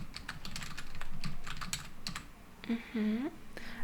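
Fingers type on a computer keyboard in a quiet room, a close run of soft irregular key clicks, followed by a short hum of a voice near the end.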